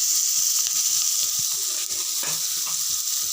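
Boiled field beans (avarekalu) tipped into a hot oiled pan for chitranna set off a steady, close sizzle, with a few soft stirring scrapes and no voices.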